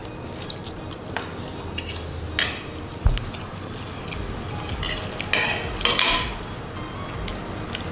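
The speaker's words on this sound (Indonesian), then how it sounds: "Oke, kita aduk ya barengan ya" A spoon stirs in a bowl with scattered clinks and scrapes against dishes, close and fairly steady over a noisy room background.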